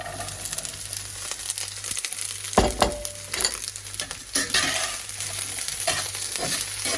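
Garlic scapes frying in a pan with young potatoes as they are stirred, giving a continuous close sizzle with repeated scraping and rustling strokes and a few louder clanks.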